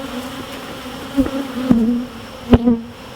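Honey bees buzz around a top bar hive, a steady low hum with several louder passes as individual bees fly close by, no voices present.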